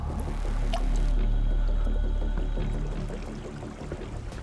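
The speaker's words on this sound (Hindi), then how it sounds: "बहते पानी की ये आवाज कभी भी मौत बनकर बरस सकती थी।" Water flowing through a narrow rocky gorge at Patalkot in Chhindwara, Madhya Pradesh: a loud, close, steady low rumble with liquid gurgles that eases slightly toward the end.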